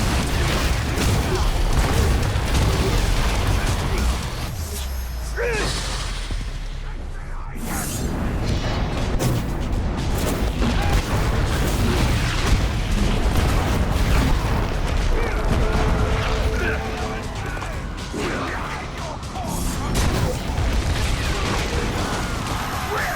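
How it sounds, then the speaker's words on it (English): Repeated explosions from the Threshing sword with machine armor in the video game Shadow of War, dense overlapping booms and bursts in rapid succession, loud and chaotic amid combat clatter, briefly easing before erupting again. "Explosions everywhere."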